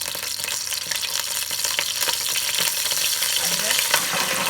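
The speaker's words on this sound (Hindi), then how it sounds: "अब हम इसमें लहसुन डालेंगे," Garlic sizzles and crackles in hot ghee for a Peshawari namkeen gosht, a steady close frying hiss with small pops and faint stirring scrapes throughout.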